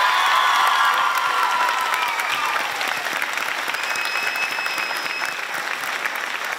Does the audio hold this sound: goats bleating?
no